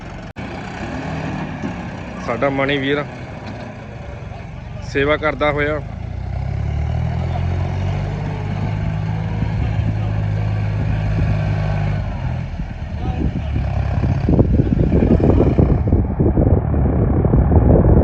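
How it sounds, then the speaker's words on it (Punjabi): A tractor digging out a village pond, its engine rumbling steadily and growing louder toward the end, heard under people talking nearby. "ਦੇਖੋ ਮਣੀ ਚੱਲਦਾ ਹੋਇਆ ਟਰੈਕਟਰ ਦੇ"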